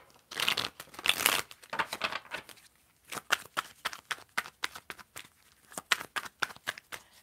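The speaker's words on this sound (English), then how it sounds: "I did kind of pre-shuffle these cards as well, but I want to make sure it's really shuffled" Tarot cards shuffled by hand in a long run of quick riffling, slapping bursts, fairly close and clear, with brief pauses between flurries and no talk.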